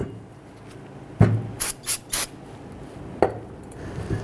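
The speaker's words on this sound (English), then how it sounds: "give it a quick spray with some spray solvent" Spray solvent hisses onto the brake parts of a 2011-2019 Ford Explorer in three short bursts, each preceded and followed by a sharp knock or clatter of handling, close and fairly quiet.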